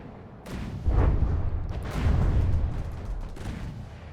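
Torpedo hits and naval gunfire from a warship battle game: deep, rumbling booms that swell and overlap, with a heavy blast near one second and another around two, then a long rolling decay.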